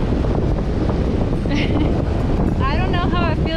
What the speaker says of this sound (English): but it's just so windy